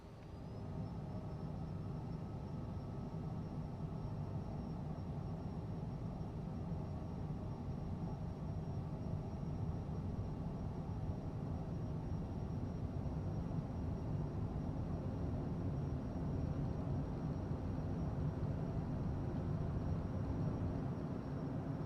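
A Cessna takes off in the flight game Tailstrike, a steady droning propeller engine with low rumble holding even and moderately faint for the whole stretch, no talking.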